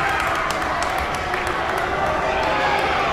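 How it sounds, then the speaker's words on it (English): A gym crowd roars and cheers after a buzzer-beating game-winner in a high school basketball game between USN and CPA, a dense, steady wash of voices and clapping filling the space at full volume throughout. "Listen to the crowd!"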